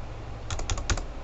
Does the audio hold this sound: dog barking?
no